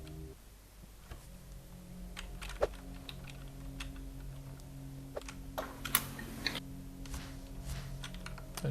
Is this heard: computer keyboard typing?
yes